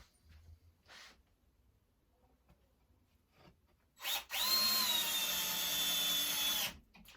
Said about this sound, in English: if you're going to use a cordless drill, just make sure that the torque is on a really low setting